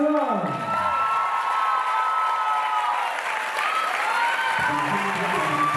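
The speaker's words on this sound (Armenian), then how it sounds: "Այս ծափահարությունները ձերն են" Audience applause for a dance ensemble performance, a steady dense wash of clapping with some cheering, with a voice speaking over it throughout.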